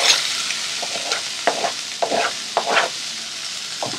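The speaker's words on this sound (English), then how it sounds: "Now going to add 1 tomato finely chopped." Finely chopped tomato with chili powder and other spices sizzles in a pan while it is stirred, the scrapes and bursts of frying coming irregularly and close by, with no talking.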